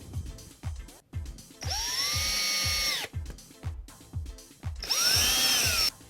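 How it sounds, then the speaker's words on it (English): A cordless drill drives screws into chipboard during wardrobe assembly, two sustained whining runs with the pitch rising and falling, separated by rhythmic knocking and handling thuds, close and loud. "you can use the cordless drill to put the screws in"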